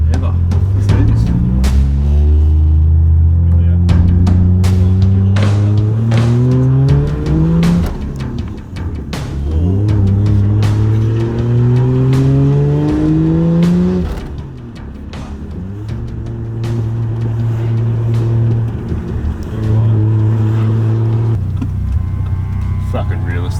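A restored Toyota Soarer with a 1JZ turbo engine revs and accelerates through the gears on its first drive, engine pitch climbing in repeated sweeps with shifts between, loud and close, with occasional voices underneath.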